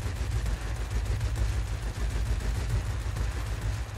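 Spitfire I machine guns fire during a dogfight in World of Warplanes: a continuous, loud, rapid rattle of gunfire over a heavy low engine drone, with no pause.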